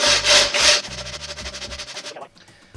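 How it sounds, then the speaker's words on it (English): A bow saw cuts through timber for a timber-frame mortise and tenon, giving close, loud, rhythmic back-and-forth rasping strokes that stop just before the end. "This is a bow saw. It's a rougher cut, but it makes better headway."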